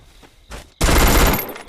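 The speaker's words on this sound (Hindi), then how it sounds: "डबल वेक्टर चला रहा है शायद, ठीक से दिखा नहीं दूर से।" A loud, rapid burst of Double Vector submachine gun fire in a 1v1 Free Fire match. It erupts after a short quiet stretch, runs for about half a second and trails off, with no talk over it.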